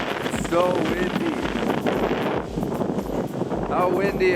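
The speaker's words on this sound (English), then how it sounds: "It's so windy." Strong wind blowing on a drive across Canada, buffeting the microphone in a constant rough rumble, with a person talking over it.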